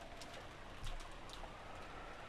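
Soft, steady rain in the Umineko When They Cry visual novel, a faint continuous hiss with a few slightly brighter drip sounds, quiet and alone, no voices.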